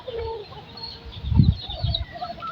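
Hens clucking on a farm: a few short, throaty clucks close by, with quieter bird calls and light background noise.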